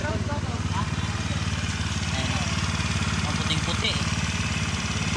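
A small scooter engine, just restarted after being flooded with water, idles steadily with a low, rough putter that runs the whole time, close and continuous, with faint voices in the background.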